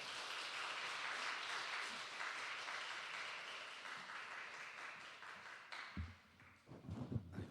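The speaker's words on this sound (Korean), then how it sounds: "따뜻한 격려의 박수로 함께 하겠습니다." A church congregation gives a missionary a warm round of applause. The sustained clapping is fairly distant and soft, and it fades out before a few closer thumps and shuffles.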